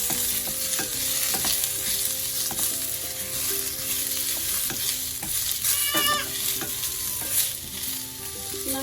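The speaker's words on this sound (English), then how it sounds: "And we have to cook everything till the tips of the onions get a bit brown." Onions frying in a pan for paneer butter masala, a steady sizzle with scraping stirring strokes running throughout, close and fairly loud.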